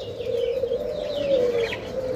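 Foreign doves kept as pet birds give a steady, drawn-out cooing call that sounds close and clear, with faint chirps above it and no voices.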